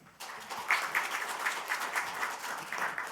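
Audience applause at a National Assembly forum on a special act for special cities, a crowd of steady, moderately distant clapping that starts abruptly and holds evenly.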